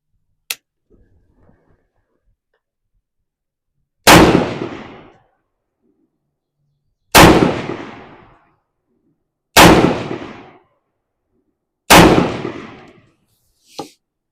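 Four loud, sharp rifle shots from a Ruger Mini-14 fed by a ProMag 10-round magazine ring out outdoors, spaced a few seconds apart with echoing decay, preceded by a faint click and followed by a brief metallic clink.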